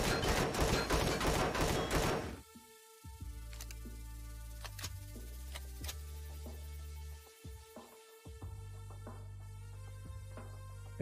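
Sentry turrets in Empyrion Galactic Survival fire a rapid burst for a couple of seconds, followed by scattered sharp shots and mechanical ticks over a low steady hum.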